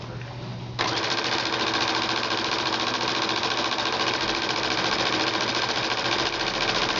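A sewing machine runs in a steady, continuous whirring drone while stitching a fat quarter skirt, starting up after a brief quieter moment and holding loud and even to the end.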